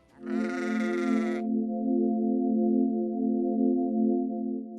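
A single wavering sheep bleat from a flock rings out for about a second, over a steady, sustained tonal drone that continues after it.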